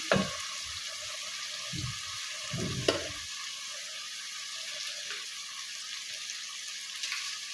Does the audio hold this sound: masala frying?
yes